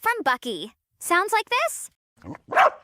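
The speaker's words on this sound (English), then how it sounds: "That sounds like a dog." A dog gives a couple of sharp barks at the close, following a few spoken words.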